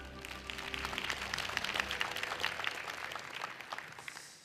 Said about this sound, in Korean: 다시 한번 KNN 이호상 사장에게 큰 박수 부탁드리겠습니다.